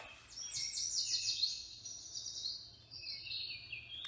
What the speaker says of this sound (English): songbird